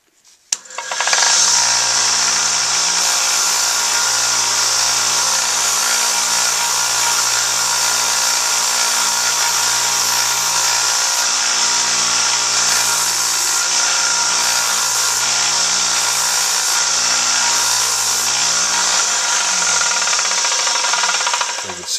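Belt sander running nonstop while shaping a tenor sax mouthpiece, a loud, dense whirring grind with a steady motor hum and brief pulses as the piece is pressed into the belt, winding down at the end.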